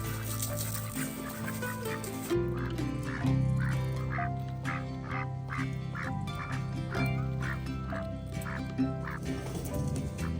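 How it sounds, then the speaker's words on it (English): Ducks quacking near an off-grid shipping container home build site, a repeated chorus of calls over a dense background that continues throughout. "Do you see the ducks?"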